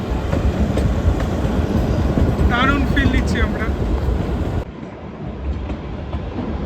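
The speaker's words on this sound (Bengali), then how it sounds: "আমাদের ট্রেন এগিয়ে চলেছে UNESCO world heritage toy train সিমলার" Rolling along the mountain line to Shimla, the UNESCO heritage toy train gives a dense, continuous clattering rumble up close; people talk briefly over it before the noise drops to a quieter, duller rattle.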